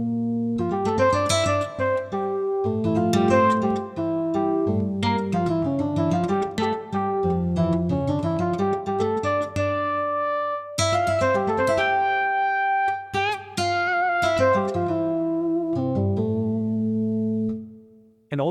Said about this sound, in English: And all that noise is coming from the DX7, one of the most noisy synthesizers